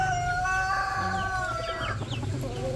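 Hens cluck and a rooster crows at a chicken farm, several birds close together in a continuous, busy chorus.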